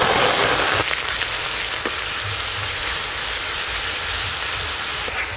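Onion paste hitting hot mustard oil with whole garam masala for prawn malaikari, a steady loud broadband sizzle that runs without a break and stays close the whole time.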